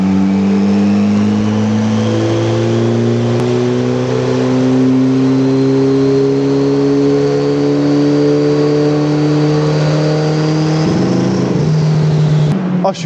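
MonkeyBusa turbo motorcycle engine on a dyno, revving in one long loud sustained pull with the pitch rising steadily, a short wobble near the top before it cuts off.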